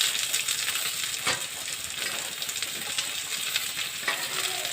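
Square-cut capsicum pieces sizzle and fry in a hot pan for chilli chicken, a steady close crackle with occasional stirring scrapes and no talk.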